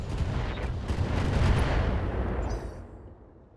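Missile salvo fired in the mech combat video game Battletech, a dense continuous roar of launches and impacts that swells mid-clip then trails off, loud and without talk.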